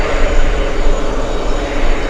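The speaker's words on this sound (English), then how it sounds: "Of course, that's an A330 Neo. Airbus A330 Neo." Virgin Atlantic Airbus A330neo airliner at JFK airport, a loud, close, continuous jet engine roar with broad rumbling noise and no breaks.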